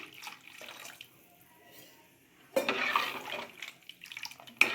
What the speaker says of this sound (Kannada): ಇನ್ನೊಂದು ಸ್ವಲ್ಪ ನೀರು ಹಾಕ್ತಾ ಇದ್ದೇನೆ